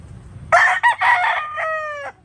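A Sweater Gold gamecock crows once nearby, loud and clear, a broken opening that stretches into a long, harmonic, drawn-out final note.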